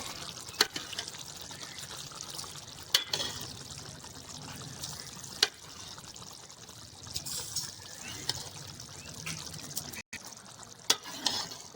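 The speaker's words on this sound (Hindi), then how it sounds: "दाल को उबाल दिया था, अब दाल डाल देते हैं।" Boiled moong dal is poured into a cooking pot, a faint continuous liquid trickle with scattered small clicks and knocks in a quiet kitchen.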